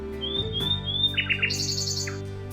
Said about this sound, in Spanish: Era el ruiseñor.